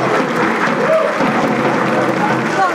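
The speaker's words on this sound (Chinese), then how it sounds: "咱是毋该掌声鼓励一下" A live audience at a Taiwanese variety show breaks into loud, sustained applause that fills the space evenly for the whole stretch.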